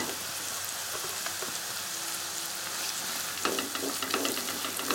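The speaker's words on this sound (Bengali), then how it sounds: "মিডিয়াম হিটে নাড়াচাড়া করে নিচ্ছি" Capsicum and onions stir-fried over medium heat for Schezwan chicken give a steady, close sizzle, with light stirring scrapes rising toward the end. No voices.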